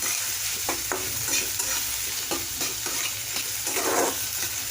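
Paneer bhurji ingredients being stirred and fried in a pan, with a steady sizzle underneath and repeated scraping strokes of a spoon against the pan, close and fairly loud.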